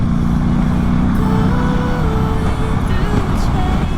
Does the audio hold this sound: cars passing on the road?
yes